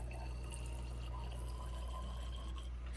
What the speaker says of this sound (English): You can use the rinse bottle as I'm doing here.